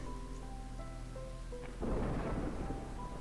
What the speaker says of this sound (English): I mean, Storm's coming.